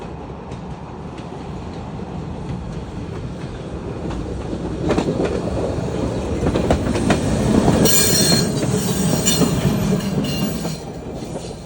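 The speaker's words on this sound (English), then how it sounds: "There it goes. It was the eastbound trolley." SEPTA eastbound trolley rolling past a quiet station, a steady rumble that swells toward the middle with rail clatter and a brief high wheel squeal, then eases as it moves away.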